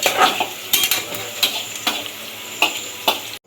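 Onions fry in a pot for chicken biryani, a close sizzle punctuated by about seven sharp metallic spoon-against-pot clanks at uneven intervals as they are stirred, with no talking.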